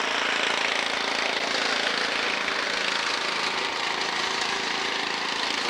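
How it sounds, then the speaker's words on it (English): A lawn mower cuts grass at a cabin, its engine giving a steady, dense, unbroken drone that stays loud and constant throughout with no talking. "mowing the grass"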